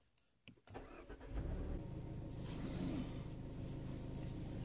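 A new compact rental car with under 1,000 km on it cranks briefly after a quiet moment, then catches and settles into a steady close idle hum, with no voices.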